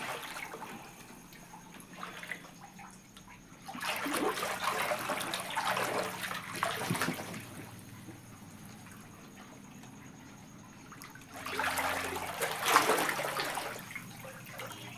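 Rainwater running across a soybean farm field after the season's first heavy downpour: a steady trickling flow that swells into two louder rushing surges, with no one talking.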